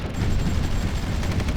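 Dense, steady battlefield rumble of artillery fire from the strategy game Supreme Ruler Ultimate, a continuous roar of overlapping distant booms with no clear gaps.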